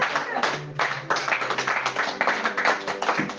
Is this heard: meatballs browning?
no